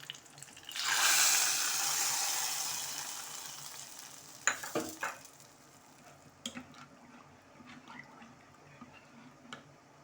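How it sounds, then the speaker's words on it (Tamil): Hot tempering of urad dal and curry leaves is poured into sambar, giving a sudden loud hiss and sizzle that fades over a few seconds, followed by faint clinks and stirring. "அடுத்தது கொஞ்சம் கருவேப்பிலை. இப்போ எடுத்து நம்ம சாம்பாரில் ஊற்றிடலாம்."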